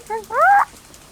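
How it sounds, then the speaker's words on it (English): Siamang calls in a zoo video game: a short pair of rising, whooping hoots that swell into a louder, longer call, then fade to quiet background. "the Siamangs, these guys are also pretty noisy"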